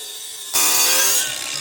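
A power tool abruptly starts up while surfacing a go-kart brake part, a loud, harsh, steady grinding whir that holds for under a second and then eases slightly.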